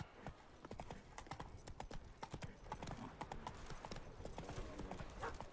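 Roach, a horse in The Witcher 3: Blood and Wine, trots steadily with close, rapid clip-clop hoofbeats in a continuous rhythm.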